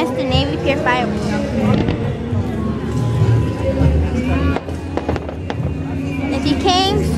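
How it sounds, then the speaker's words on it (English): Continuous fireworks at Navy Pier bursting with sharp crackling pops, under a constant hum of crowd chatter and cheering voices nearby. "This is for whoever missed the Navy Pier fireworks."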